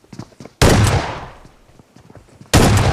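Two loud, close gunshots in the mobile battle royale game BGMI, about two seconds apart, each a sharp blast trailing into a fading echo, with faint background game noise between them.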